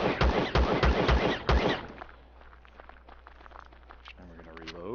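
Video game gunfire in Empyrion Galactic Survival: five sharp shots in a quick run, loud and close, then fainter game sounds and footsteps, and a rising-falling tone near the end.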